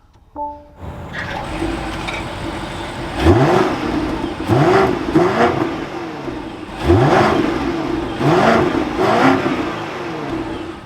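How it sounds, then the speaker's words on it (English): A 2024 BMW X7 M60i engine turns over and starts, then revs several times, the exhaust rising and falling in loud repeated bursts before settling to idle. "let's fire this up now so you can hear that exhaust"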